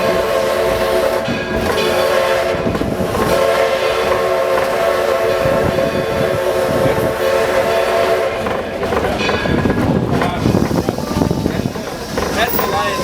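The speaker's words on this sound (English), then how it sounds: "enjoy the sights and sounds of railroading as it was in the late 1800s" A 4-4-0 steam locomotive, Edison No. 1, runs past with a loud, steady rumble and rolling wheel clatter, its horn or whistle sounding through the running noise, with voices talking in the background.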